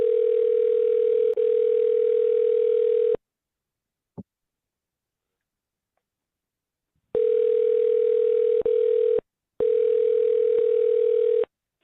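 A recorded sales cold call rings out as a telephone ringback tone: long, steady, buzzing tones of a few seconds each, separated by silent pauses, with one faint click between them. Nobody speaks.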